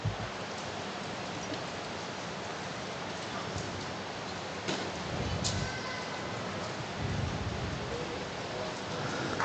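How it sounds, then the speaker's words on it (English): Steady rain falls outdoors at a rugby league ground, a soft continuous hiss picked up by the field microphones, with no clear voices over it. "A little bit of rain about."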